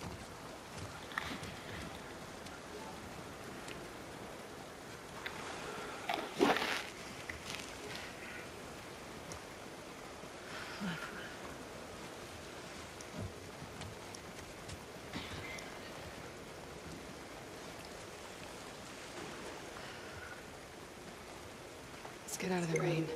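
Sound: rain in video game The Last of Us Part II

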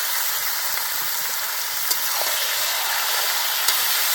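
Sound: onions and garlic frying in a pan

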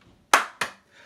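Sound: hand claps

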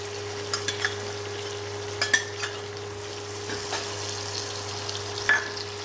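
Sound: green chillies, onions and ginger frying in a pan

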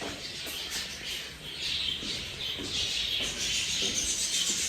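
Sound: sparrows chirping

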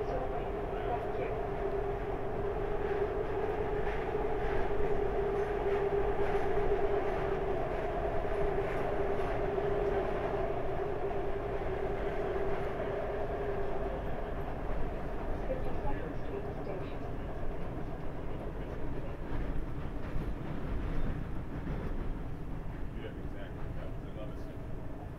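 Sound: subway train running

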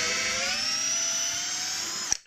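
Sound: Parkside PBSA 12 D4 cordless drill driving a screw

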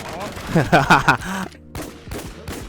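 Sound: gunfire in a video game

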